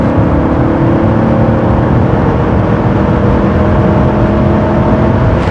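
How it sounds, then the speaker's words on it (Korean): A facelifted Lincoln Nautilus engine at full throttle hums steadily with a smooth, low roar and rising whine, loud and continuous with no voices. "그 엔진 풀악셀 밟았을 때 원래 토크가 강력하다는 그 소리는 알겠거든요."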